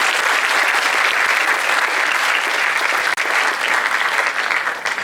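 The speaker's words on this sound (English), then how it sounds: "Let us give another round of applause to the high school symphonic band" A hall full of people applauds a high school symphonic band at a ceremony, a loud, continuous wash of clapping holding steady and easing slightly near the end.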